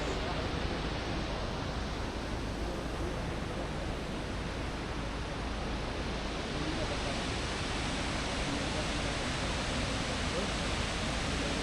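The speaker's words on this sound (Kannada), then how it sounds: "ಇಲ್ಲಿ ನೀರು ಸುಮಾರು 380 ಅಡಿ ಹೈಟಿಂದ ಬೀಳ್ತಾ ಇದೆ" A waterfall in Uttara Kannada drops roughly 380 feet, giving a steady, unbroken distant roar of falling water with no voices.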